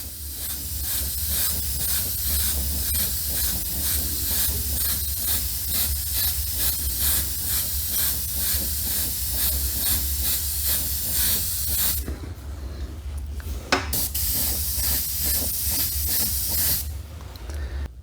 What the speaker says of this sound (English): you want to keep your air on all the time. So when you're spraying, you don't want to stop